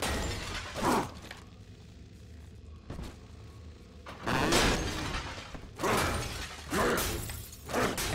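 Glass is bashed and shatters in Bioshock 2, with several sharp crashing bursts spread over the clip, each ringing out into quieter pauses, with a few thuds between.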